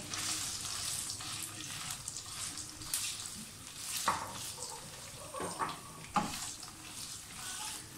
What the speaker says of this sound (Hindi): सबसे पहले पनीर जो है वो फ्राई कर लें, थोड़े से शैलो फ्राई करेंगे